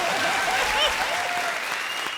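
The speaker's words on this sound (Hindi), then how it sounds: "इन तीनों के लिए ताली बजाइए।" Audience applause at a comedy stage show, a dense steady clapping that fills the room for about two seconds at even loudness.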